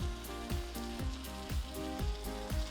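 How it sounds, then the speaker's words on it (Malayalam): Chilli chicken with chilli sauce, soy sauce, tomato ketchup, a pinch of sugar and vegetables sautéing on high flame for restaurant-style chilli chicken; a steady, loud sizzle with regular rhythmic stirring scrapes against the pan, and no voices. "ഹൈ ഫ്ലെയിമിൽ നമുക്ക് നന്നായിട്ടൊന്ന് സോത്ത് ചെയ്തെടുക്കാം."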